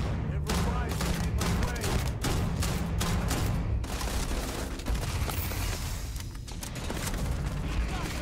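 Rapid gunfire in the sci-fi game Starfield, a dense run of loud, close shots for the first few seconds, then continuing cracks and mechanical clatter as combat carries on, with a voice talking over it.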